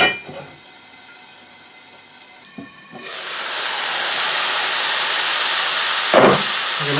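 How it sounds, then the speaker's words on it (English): Onions hitting a hot oiled pan for stuffed peppers: a sudden loud, broad hiss and sizzle bursts in after a quiet moment and keeps going steadily, with a brief clatter near the end. "the onions, let those smoulder for about 3 minutes."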